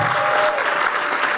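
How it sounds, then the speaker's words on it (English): An audience claps loudly and steadily after being urged to keep going, a dense wash of hands filling the room, with a faint voice or cheer mixed in. "everyone, a huge round of applause right now"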